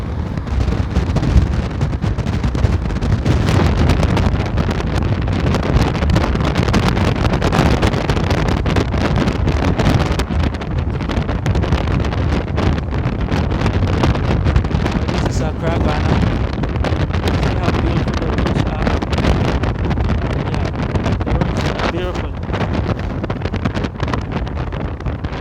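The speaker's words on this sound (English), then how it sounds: "The wind is too much." Strong wind buffeting a microphone outdoors in Accra, Ghana, a loud continuous roar and rumble filling the whole stretch with steady gusty turbulence.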